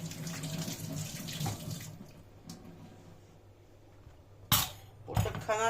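Tap water runs while chicken wings and drumsticks are washed in a sink: a steady rush for the first couple of seconds, then a quieter trickle, with a few sharp splashes and clatters near the end.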